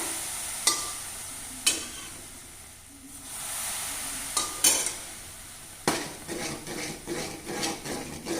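Thick Mysore pak mixture of gram flour and sugar, with hot ghee and oil added, is stirred in a pan, giving several sharp scraping strokes over a steady bubbling hiss and sizzle.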